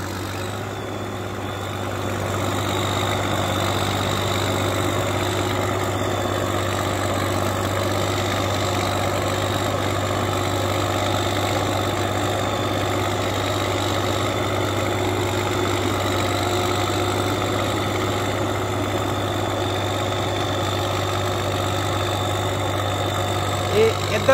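A Massey Ferguson 533 tractor pulling a two-bottom reversible plough through a field runs with a steady, droning engine hum throughout, constant and fairly close, with no voices.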